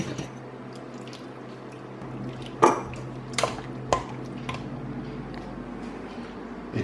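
A spoon mixes peanut butter with boiling water in a bowl, giving a few sparse clinks and taps against the bowl over a low, steady room hum.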